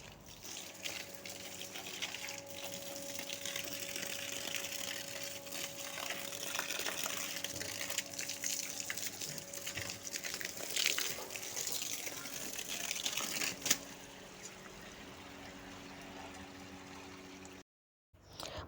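Water gushes steadily from a hose or tap while plants in a garden are watered, a moderate continuous splashing and pouring that shifts slightly in tone and then cuts off briefly near the end.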